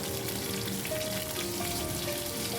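Broken dried red chillies crackle in hot oil alongside potatoes and peanuts pushed aside in the pan, a dense continuous sizzle heard up close and alone.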